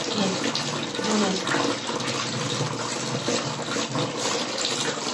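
Water is poured from a cup over a child during a bath, making a steady splashing, running-water rush that continues for several seconds.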